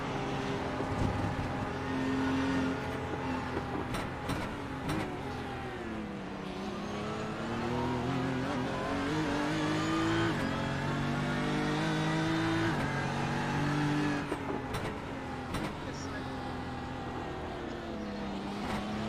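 A GT3 race car engine in the iRacing game at Sandown International Motor Raceway drones continuously, rising and falling in pitch through gear changes and throttle, steady and prominent throughout.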